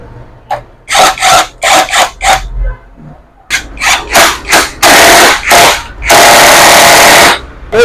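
Rapid bursts of ratcheting and clattering as the axle main nut is tightened on a Splendor motorcycle wheel, a series of short loud pulses followed by longer sustained hissing-like runs, with faint talk early on.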